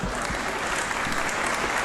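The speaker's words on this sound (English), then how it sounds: "And they're clapping." An audience claps steadily and densely, a continuous wash of applause filling the whole short stretch at even loudness.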